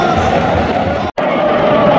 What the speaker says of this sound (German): Die feiern natürlich den Ausgleich, die Liverpool-Fans. Auch sehr lautstark da hinten im Eck.